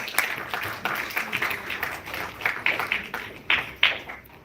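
Audience applause at a college event at JIMS Kalkaji, New Delhi, as a student is called to the stage to receive mementos; moderate, uneven clapping with some louder claps standing out, no talk.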